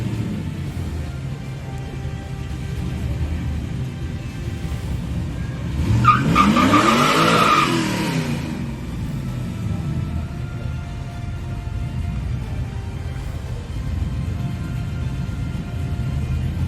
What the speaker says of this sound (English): Gonna heat up those tires right now.